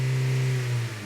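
A Honda Civic engine with lean fuel and high O2 sensor voltage codes holds steady at about 3,000 RPM, a close, even mid-pitched drone that eases slightly near the end.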